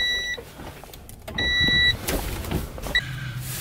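A tired Honda Civic heater blower motor runs with a steady whirring rush, broken by a few short, high-pitched electronic beeps.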